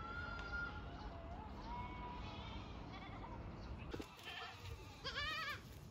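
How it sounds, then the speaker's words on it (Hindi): Goats bleat outdoors on a hillside near bamboo trees, ending in a loud, quavering bleat, over steady rural background noise with faint voices. "ऊपर भी है बकरियां, ऊपर बांस के पेड़ के पास।"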